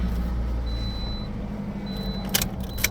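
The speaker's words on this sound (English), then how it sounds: "The vehicle starts." A 2017 Toyota RAV4 XLE idles with a steady low engine rumble, broken by a faint high chime and a couple of short clicks near the end, with no talk.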